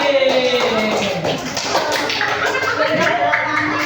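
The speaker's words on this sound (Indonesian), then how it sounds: "Betul, tepuk tangan untuk Andi" Primary school classmates clapping for a pupil named Andi, a lively burst of hand claps mixed with chatter and light laughter in a classroom.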